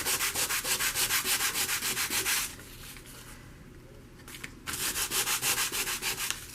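A junk journal piece is scuffed with quick, rhythmic back-and-forth rubbing strokes, close and regular, that pause for about two seconds in the middle before starting again.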